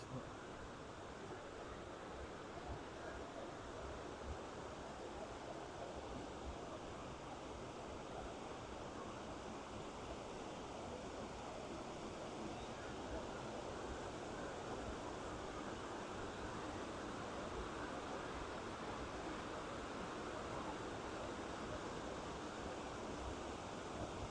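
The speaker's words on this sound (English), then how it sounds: "the water's pretty loud, so y'all might get drowned out by the noise" Loud, steady rushing water from a spring at Blanchard Springs Recreational Area in the Ozarks fills the scene without pause, a dense roar close by.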